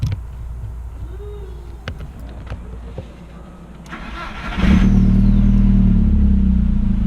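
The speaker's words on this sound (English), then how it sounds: "I gotta start my car at least 3 times just to make sure that it's working properly" A VW MK4 with a 1.8T engine and Stage 2 ignition tune cranks briefly and fires up at close range, settling into a loud, steady idle rumble after some quieter preceding noises.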